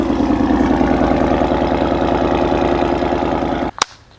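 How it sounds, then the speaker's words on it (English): A 2017 Ford Mustang GT, wrecked and carrying hidden modifications, rumbles loudly and steadily up close with a deep throbbing idle, then cuts off near the end, leaving a brief sharp knock. "And you hear this Mustang unleash some ponies."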